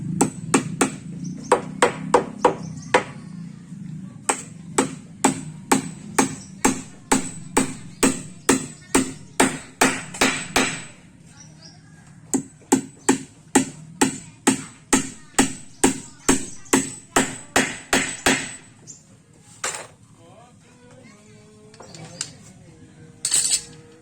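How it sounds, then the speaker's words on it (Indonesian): Nails are hammered into wood while a boat is being restored, dozens of sharp metallic blows in quick regular runs with short pauses between, close and loud, with quiet voices occasionally in the background. "Kalau langsung dipaku yang ujung untuk pemasangan drumnya. Oke, langsung dipaku ya."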